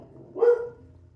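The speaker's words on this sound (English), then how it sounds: "What is she barking at" A female dog gives a single short bark off in another room, muffled and moderately loud against a quiet indoor background.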